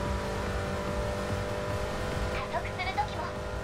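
A Mini Cooper races in the mobile game Racing Master, its engine a steady droning roar throughout with brief squealing tones near the end, heard under game music and talk.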